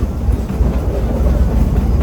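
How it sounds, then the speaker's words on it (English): Loud, continuous rumble of a theme park train riding the Frisco Silver Dollar Line in the Ozarks, the wheels and cars keeping up a close, steady low roar with no voices. "it is a beautiful day for a train ride here in the Ozarks"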